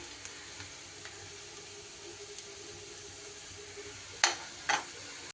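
Onions frying in a pan give a steady, soft sizzle throughout, with two brief sharp clinks of a utensil near the end, close by with no talk.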